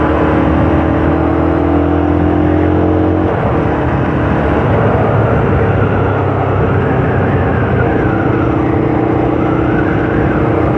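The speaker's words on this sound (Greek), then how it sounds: "Φανταστική μοτοσυκλέτα, παιδιά, φανταστική." A Daytona Zontes R250 motorcycle is ridden at speed, its engine note holding steady under heavy wind rush with a shift in tone partway through, loud and continuous with no talk.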